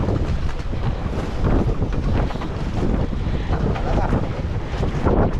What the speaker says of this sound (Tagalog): kita nyo naman ang lakas ng hangin